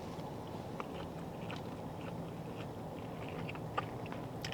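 Close chewing of a poke bowl with edamame, kimchi and rice, soft steady mastication with a few faint crunchy bites, quiet and alone.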